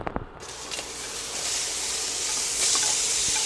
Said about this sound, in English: we're gonna saute the onions